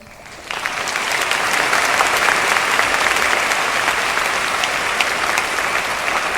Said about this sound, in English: Thank you for your warm applause.